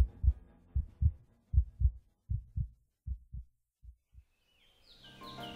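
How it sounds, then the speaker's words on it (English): A heartbeat sound effect thumps in clear lub-dub pairs, deep and close, gradually spacing out and fading before a faint ambient swell rises at the end. "I only allowed myself to hear the sound of my own heartbeat."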